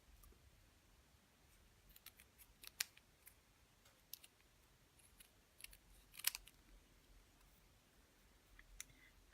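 Scissors snip out a stamped paper piece with quiet, close clicks that come in small irregular bursts, and there is no talking.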